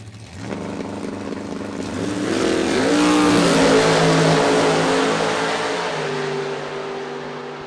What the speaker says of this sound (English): Here comes the supercharged Camaro.